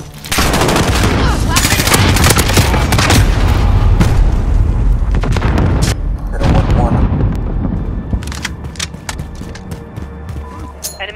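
Gunfire and explosive blasts in the video game Call of Duty Modern Warfare, a loud continuous barrage of rapid shots and heavy booms with a grenade detonation among them, dense and near throughout.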